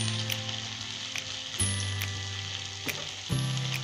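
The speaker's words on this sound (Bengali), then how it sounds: "আলু এবং কপিটা একটু নাড়াচাড়া করব। এটা ভালোভাবে ভাজা ভাজা হয়ে গেলে আমরা এতে লবণ দিয়ে দেব।" Potatoes and cauliflower frying in oil for a cauliflower samosa filling, a steady close sizzle with a few sharp scraping stirs of the spoon against the pan.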